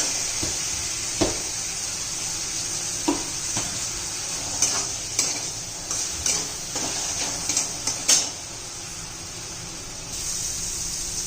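Onion and tomato sautéing with salt in a pan, a gentle steady sizzle broken by repeated scraping and tapping of a spatula against the pan, clustered in irregular bursts in the middle.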